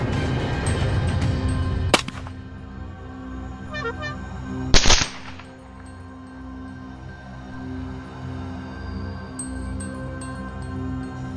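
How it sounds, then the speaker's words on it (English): Rifle shots fired with a silencer at wild boars during a night hunt: two sharp, loud cracks a few seconds apart, the second followed by a brief echoing tail, then several fainter distant reports over a steady background hum. "In the dark night, the gunshots kept ringing"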